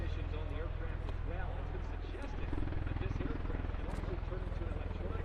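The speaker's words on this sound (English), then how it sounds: "now showing off its vertical takeoff and landing capabilities in helicopter" An MV-22B Osprey tiltrotor in helicopter mode at an air show gives off a steady, rapid rotor thump and drone, with someone talking over it throughout.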